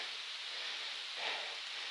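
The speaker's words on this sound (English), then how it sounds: "It's starting to rain." Rain beginning to fall along a rocky stretch of the Appalachian Trail, a steady close hiss of drops on surfaces, even and unbroken, with no voices.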